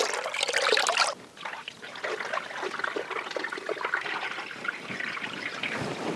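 Water from settled huangbai root bark starch poured out of a basin: a heavy splashing gush at first, then a steady trickling stream that goes on to the end.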